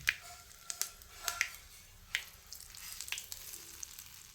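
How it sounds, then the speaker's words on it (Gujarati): A hot oil tempering of mustard seeds, cumin and curry leaves, added to dhokla batter, crackles and pops in sharp, irregular bursts over a soft sizzle, fairly quiet and close. "હવે વઘારને બેટરમાં ઉમેરી દઈએ"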